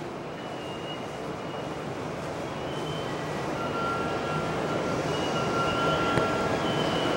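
A Sotetsu Line commuter train pulls into Yokohama station with a steady, moderately distant rumble that swells slightly as it arrives, with faint high squeals near the end.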